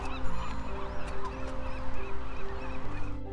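A large flock of birds on Alcatraz Island gives repeated, overlapping honking calls in quick bursts at a moderate distance, with a steady background hum and no voices.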